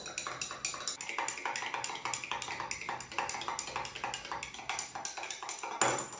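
A spoon stirs a teaspoon of sodium hydroxide into water in a small container, giving a quick, steady run of close, bright clinks and taps against the sides.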